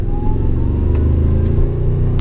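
A Toyota Tundra TRD Pro engine fitted with a supercharger accelerates, a loud, close, steady rumbling drone with a rising whine running through it.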